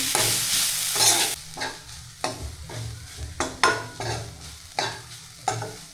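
Jaggery and grated coconut are stirred and roasted in a pan as modak filling, giving a gentle sizzle under repeated rhythmic scraping strokes of a spoon, about two per second, with no talking.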